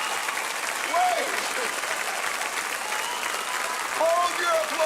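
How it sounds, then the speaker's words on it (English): A studio audience at a Saturday night variety show applauds steadily throughout, with a few louder swells of clapping and faint voices and whistles rising over the crowd. "Hold your applause"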